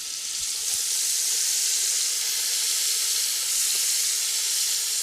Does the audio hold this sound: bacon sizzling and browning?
yes